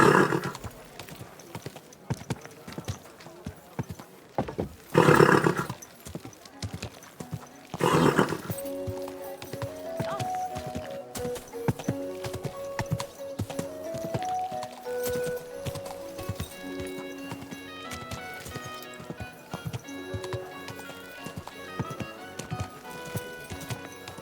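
In the video game Kingdom Come: Deliverance II, hooves clip-clop steadily at a slow walk, and a horse lets out a loud whinny partway through, with music playing underneath.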